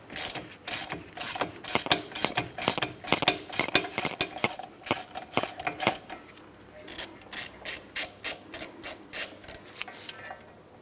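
A ratchet with a socket works loose a 15mm bolt holding the rear ABS wheel speed sensor on a 2008-2016 Chrysler Town & Country, giving steady runs of close, crisp clicks with a short pause midway.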